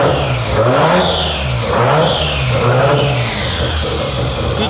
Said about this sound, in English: Give him a little rev there,